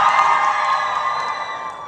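A concert crowd at an event at Pryzm, Kingston, cheers loudly and steadily for a song, a dense sustained roar of voices with no talk over it.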